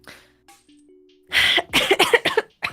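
Quiet room, then a burst of several harsh coughs in quick succession, close and loud.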